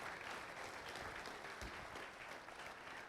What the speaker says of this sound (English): Another big round of applause for Angel, ladies and gentlemen.